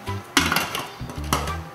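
A lid is set onto a cooking pot holding chicken and water, two sharp metallic clanks a second apart, close and fairly loud over quiet background music.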